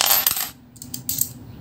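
A coin, a 2018 or 2020 Philippine 10-peso NGC piece, drops onto a hard surface with a sharp metallic clink and a few short ringing bounces, close and clear with no talking.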